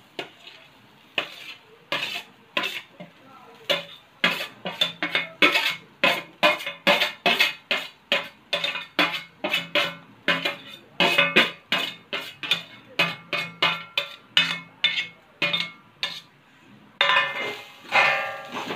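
Freshly grated wet coconut roasted in a pan with poppy seeds, stirred by hand: a brisk, rhythmic run of scraping and clinking spatula strokes against the pan, close and distinct, with no talking.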